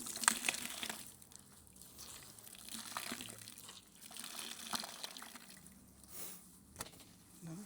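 A microfibre cloth rinsed under a running tap: quiet, uneven splashing and trickling water that swells and eases in bursts as the cloth is worked, close by and without talking.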